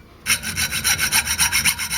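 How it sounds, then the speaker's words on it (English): A junior hacksaw blade cuts a slot in a motorbike camera bracket, giving a close, steady run of about a dozen rhythmic rasping strokes after a brief quiet start. "They're big enough to admit the old junior hacksaw blade."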